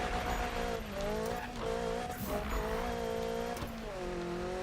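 Volkswagen Golf racing in the Need for Speed video game, its engine note rising and falling in steady gear-change sweeps, with occasional tire squeal, loud and continuous throughout.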